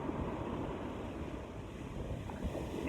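Surf rolls onto a beach in a continuous wash of breaking waves, steady and fairly loud, with wind buffeting the microphone.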